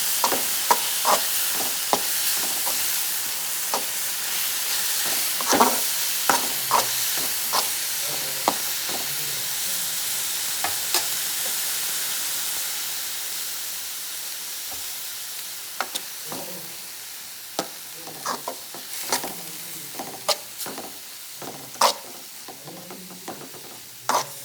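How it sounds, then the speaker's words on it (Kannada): Chopped tomatoes fry in a pan for masala pasta, giving a steady sizzle and hiss punctuated by sharp spoon scrapes and clinks of stirring over nearly half a minute, with no voices. "ಟೊಮ್ಯಾಟೊ ಕೂಡ ಆ್ಯಡ್ ಮಾಡಿ ಸ್ವಲ್ಪ ಫ್ರೈ ಮಾಡ್ಕೊಳ್ಳೋಣ."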